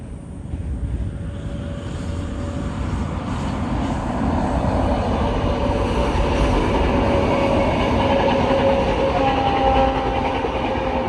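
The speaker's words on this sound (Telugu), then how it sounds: "train is coming" A train rumbles past on the rails in Goa, a loud continuous roar that builds and holds steady with faint clattering.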